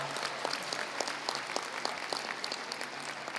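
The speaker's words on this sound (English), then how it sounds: "Give him another round of applause." Audience applause at a convention banquet, a steady wash of clapping hands from a crowd filling the room, moderately distant and continuous throughout.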